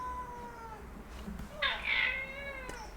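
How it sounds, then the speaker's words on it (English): A domestic cat meows several times in drawn-out, wavering calls, the loudest one near the end, fairly close but quiet in a room with a faint background hum. "I don't know if you can hear my cat."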